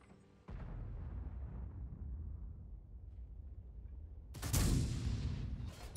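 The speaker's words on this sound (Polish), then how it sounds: "Wybuchło to TP." A tank explodes in World of Tanks: a low rumbling blast that rolls on and decays, followed by a second sharper, louder explosion burst near the end, with no talk over it.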